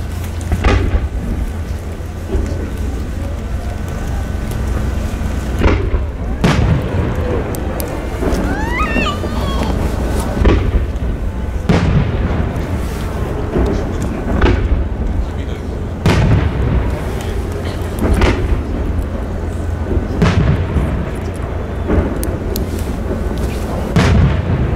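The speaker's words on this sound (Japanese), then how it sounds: "命を宿した不思議な輝きを放つ花火をご覧ください。" Fireworks burst repeatedly at the Yatsushiro fireworks festival, deep booming explosions at irregular intervals over a rumbling crowd ambience, with a whistling rising shell and a narrator's voice heard at times.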